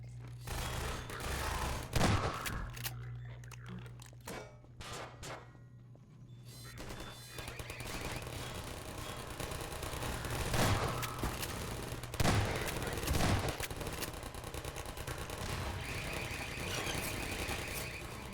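Automated turrets fire during Half-Life 2 gameplay in rapid bursts of gunfire, with sharp impacts and rattling volleys spread across the stretch, some louder clusters standing out against a steady background of game noise.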